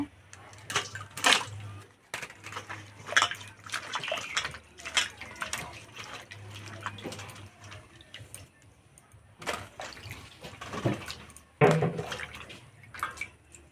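Bitter gourds are washed in running water in a home kitchen, irregular splashing and rubbing with a tap trickle over about fourteen seconds, close and uneven, with bursts of louder sloshing; a low hum runs underneath.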